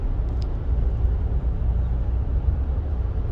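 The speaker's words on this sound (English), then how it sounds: "it's like a regular car now. Quiet, you don't get that droning noise" Low, steady engine rumble of a car idling or cruising through a Walker Quiet Flow muffler, muffled and fairly quiet, with no sharp exhaust noise or droning.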